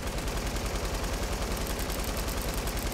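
Sustained automatic fire from an LMG machine gun in the video game Fortnite, a loud, dense, rapid stream of shots that runs without a break, with no voices over it.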